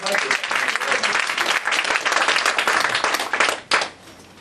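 A church congregation at a youth vision conference bursts into sustained applause, dense clapping filling the room at full volume before cutting off sharply near the end, with a brief final flurry.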